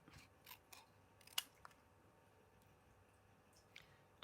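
Scissors snipping paper for card making with a woodland stamp set: a few quiet, close, crisp cuts spaced irregularly against a near-silent background, no voices.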